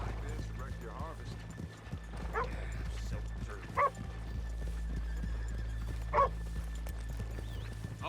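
Horses in Red Dead Redemption 2 on a rainy town street, hooves clip-clopping with short whinnies and snorts, mixed with steady rain-like background noise and game ambience.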